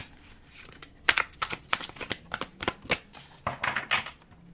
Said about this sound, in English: 5 shuffles, start pulling the cards.